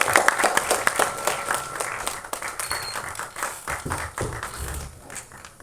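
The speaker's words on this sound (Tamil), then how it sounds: "ஒரு பெரிய கைத்தட்டல் கொடுத்துடலாம்." At an album song screening event, a crowd applauds with dense, steady clapping that holds for several seconds before thinning slightly toward the end.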